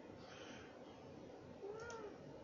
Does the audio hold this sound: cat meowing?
yes